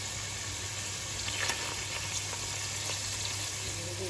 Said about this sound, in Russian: первые минуты мы его обжариваем, то есть его нужно все время переворачивать